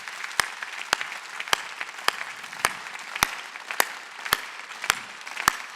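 Congregation at a Korean church revival service in an arena hall claps in unison, sharp loud synchronized claps at a steady beat roughly every half second over a low crowd murmur.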